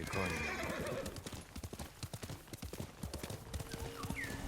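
A horse gallops in the video game Ghost of Tsushima, rapid rhythmic hoofbeats pounding steadily throughout, opening with a neigh and ending with a short whinny near the end; close and prominent, without speech.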